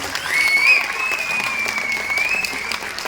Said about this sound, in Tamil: இந்த கைத்தட்டல்கள் எல்லாம் வந்து ரவிக்குமார் என்கரேஜ் பண்ண அவங்க அம்மாவுக்கு நிச்சயமா போய் சேரும்